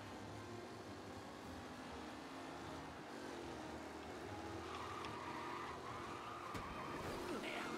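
Racing cars skidding in the Mafia video game during a stock-car-style race, a steady loud engine roar with tire squeal rising toward the end.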